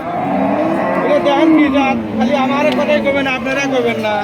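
A black Jersey cow at a cattle market gives loud, close, drawn-out moos that rise and fall almost continuously, with faint market commotion behind.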